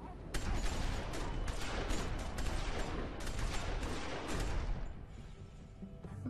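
A loud, dense burst of gunfire from The Walking Dead Season 2 video game, several shots fired together in a rapid volley lasting about five seconds before it drops off.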